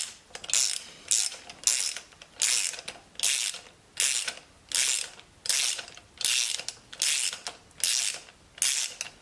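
Close, crisp clicking of a socket ratchet loosening a car spark plug, repeated in about a dozen regular bursts of fast pawl clicks with brief pauses between strokes.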